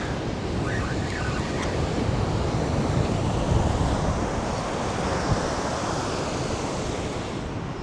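Ocean surf washes onto a beach during a spring surf fishing session, giving a steady, loud broadband roar of breaking waves mixed with wind buffeting the microphone, with no voices.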